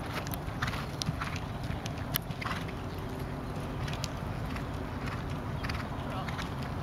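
A horse canters around an arena at a showjumping clinic, its hoofbeats a steady, moderately distant rhythmic thudding over a constant background rumble.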